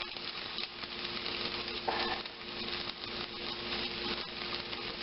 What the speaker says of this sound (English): I don't know if you can hear that, but yeah, it's sizzling